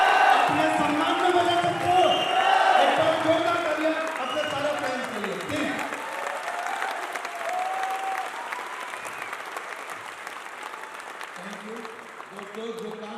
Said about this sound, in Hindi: आप अपनी जगह पे खड़े होकर एक बार जोरदार तालियां बजाएं इनके लिए